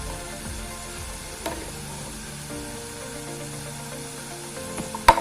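Coriander powder sizzles in a hot pan for fried rice, a soft steady frying hiss broken by a few scrapes and knocks of stirring, ending with a sharper clack.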